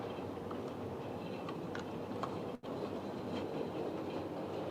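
An old Hornby model locomotive made in England running on its track, a quiet steady rolling rumble with faint rhythmic clicks of wheels over rail joints, no talk.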